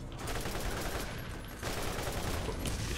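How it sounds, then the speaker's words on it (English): Dense, continuous gunfire from several weapons in the Borderlands video game, sustained bursts aimed at the player with a brief dip partway through. "Who is shooting me?"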